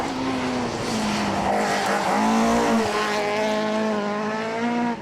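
A loud engine roars continuously as a Mark II Ford Escort rally car races past flat out at high revs, with rising and falling pitch suggesting gear changes and a close, sustained drive.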